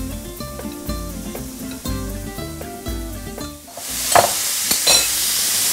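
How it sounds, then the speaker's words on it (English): Portobello mushrooms start sizzling in olive oil in a pan, a bright steady crackle that rises after a few seconds of tonal music and continues with small clicks until the end. No one speaks. "Now we're ready to cook up the mushrooms, so I'm going to add a little bit of olive oil to the pan again."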